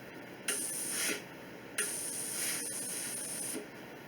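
A Laurastar Smart U iron steams through layers of fabric in two loud, sustained hissing bursts: one short, then a longer one that tails off, with a quiet pause between them.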